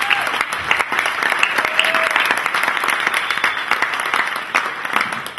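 Sustained audience applause fills the room at a talk event, dense and steady clapping from many hands throughout, loud and continuous with no speech over it.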